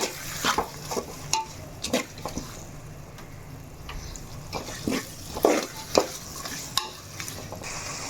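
Prawns being stirred in a pot of biryani masala, a series of irregular scraping and clanking spoon strokes against the pot over a low background sizzle, close by, no talking.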